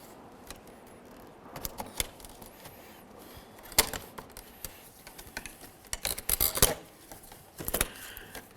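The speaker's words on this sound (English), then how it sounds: "Continuing with the trim tool, I'm going to carefully get underneath this and gently pry it up as well." A plastic trim tool pries up interior door trim on a 2006-10 Ford Explorer, giving scattered sharp clicks and snaps, with a cluster of louder pops toward the end, all close by.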